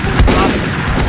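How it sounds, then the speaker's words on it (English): A Danish parade fire rifle volley, a single loud, close burst of simultaneous shots with a booming report that rolls on briefly. "45 degree aim. Parade fire."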